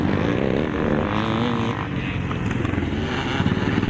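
Classic motocross bikes, including an SRM BSA and a small Spanish-made two-stroke Bultaco, race at a nostalgia scramble at Holme Farm, their engines buzzing loudly and continuously with revving rises and falls close by.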